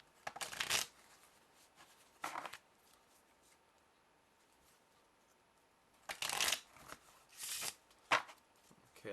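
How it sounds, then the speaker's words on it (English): Ordinary deck of playing cards shuffled by hand: quiet riffling bursts, one at the start and another shortly after, then a cluster of brisk riffles and snaps near the end, close and clear with no talking. "I'll just shuffle it."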